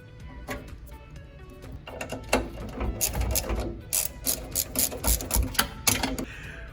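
A socket wrench ratchet loosens a pair of 7mm nuts on an ES Plus elevator lock, with bursts of quick close clicking that come in uneven runs, louder and denser in the second half, alone with no talk.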